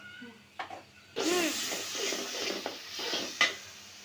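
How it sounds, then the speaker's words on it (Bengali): Masala with red chilli powder and coriander powder stir-fried in a pan, a close sizzle rising abruptly with scraping stirring strokes over about three seconds. "মশলাটা কষায় নেই, কষানো হোক।"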